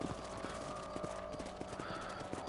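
Horse hooves clip-clop in a steady walking rhythm in Red Dead Redemption, a brief whinny rising near the end, the hoofbeats close and clear over a constant background bed.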